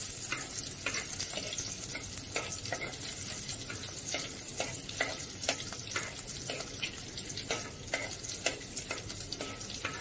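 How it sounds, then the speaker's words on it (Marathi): Ground masala paste is stirred into a frying fish curry in a pan, a soft steady sizzle with repeated scraping strokes of the spoon, close and continuous. "हे जे वाटण तयार करून ठेवलेले आहे ते टाकायचं त्याच्यामध्ये, ढवळून घ्यायचं"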